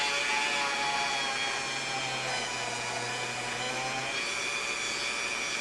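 A Dremel with a small bit drills out stitching holes in a leather knife sheath, making a steady, close, high-pitched motor whine that runs continuously with no talking.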